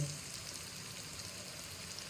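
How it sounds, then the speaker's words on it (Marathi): Onion fries in a pan of hot oil for tempering a wild kuda pod vegetable dish, giving a steady, even sizzle and crackle throughout with no voices. "कांदा आपलं चांगला तळून घ्यायचा."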